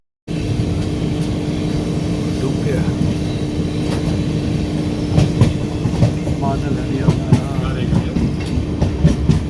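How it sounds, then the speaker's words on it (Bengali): Inside the Netaji Express passenger train as it runs along the tracks toward Hathras near sunset, a steady loud rumble with rattling and faint clicks fills the whole stretch, with a voice heard faintly in the background. "ট্রেন এখন হাথরসের দিকে এগিয়ে যাচ্ছে।"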